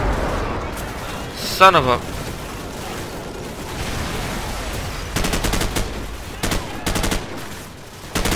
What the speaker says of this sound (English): Where am I being shot from, damn it?